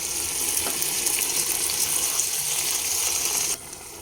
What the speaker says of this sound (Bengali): আমি দেড় কাপ মতো গরম জল দিয়ে দিলাম